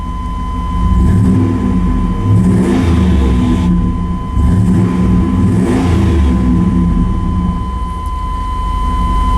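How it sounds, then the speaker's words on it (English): A rebuilt Vortec V8 in a 1996 Chevrolet Tahoe fires and runs, a loud steady idle with a couple of throttle blips swelling and falling, no talk over it. "Starts right up. No typical Vortec piston slap."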